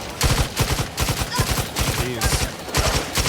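Rifle gunfire in The Outer Worlds 2, rapid bursts of sharp shots fired in quick rhythmic volleys, loud and close, with a brief exclamation from a man between bursts.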